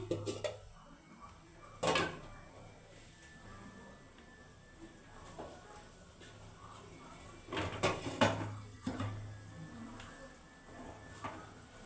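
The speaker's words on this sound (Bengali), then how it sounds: "জলটা দেওয়ার পরে 5 মিনিট ফুটিয়ে নেবো, তারপরে ঢাকনাটা দিয়ে দিচ্ছি।" A lid set onto a pot of bhetki fish curry simmering in mustard sauce in a home kitchen, a few light metallic clanks and knocks against low steady background hum, with no talk.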